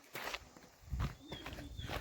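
Footsteps of a small group walking along a rural village trail near an old dam in the Rajgad hills of Pune, a few scuffing steps close by with irregular rhythm and faint voices in the background.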